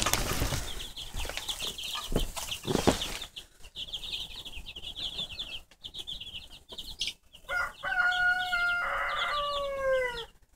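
Hens in a coop with chicks give scattered clucks and a rooster-like crow, with wing flaps and rustling, moderately near and without talk.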